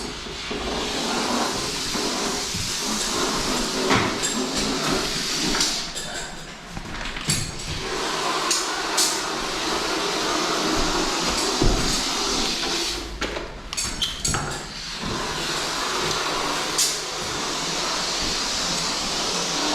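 Green expanding foam sprays from a can onto a skirting board in a steady, close hiss that runs on with brief breaks and knocks, while a voice talks faintly now and then.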